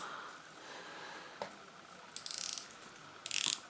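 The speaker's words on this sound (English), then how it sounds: "it's very positive clicks. You can just hear that there." Tag Heuer F1 diver-style watch bezel turned in two short bursts of rapid, crisp ratchet clicks, close and alone over quiet room tone.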